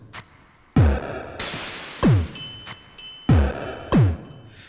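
Clean, resonant anvil hammer strikes ring out in an irregular beat, each with a booming low thump and shimmering decay, interspersed with clanking chain rattles.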